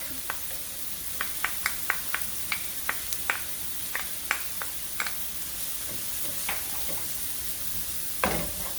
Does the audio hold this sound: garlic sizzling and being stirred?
yes